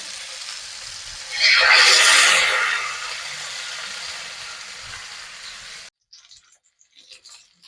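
Kilimeen fish hits hot coconut oil with a sudden loud sizzling burst that slowly settles into a steady crackling fry, then stops abruptly, followed by faint, sparse kitchen clatter.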